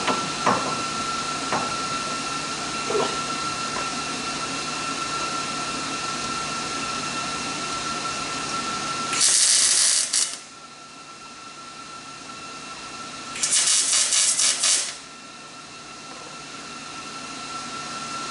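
Tack welding in a home workshop: two separate bursts of harsh crackling hiss, each lasting about a second, stand out over a quieter background hum.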